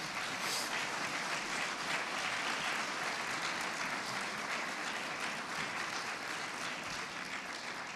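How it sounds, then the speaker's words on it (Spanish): During a sermon service, a church congregation gives sustained applause, an even, full roar of clapping from many people that continues unbroken for several seconds. "Le damos un fuerte aplauso al Señor."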